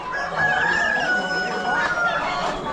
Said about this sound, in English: And another silky.